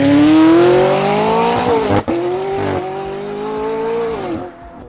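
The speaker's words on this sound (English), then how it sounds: "I'm so excited to watch these cars race" A loud engine roars as a Lamborghini Huracan STO or McLaren 600LT accelerates hard through the gears in a drag race, a brief shift break midway, then the sound trails off; no one speaks.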